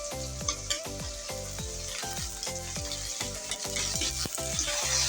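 Prawns fry in hot oil after onions have been sautéed, giving a steady close sizzle with repeated scraping stirs and clinks of a utensil against the pan in a loose rhythm.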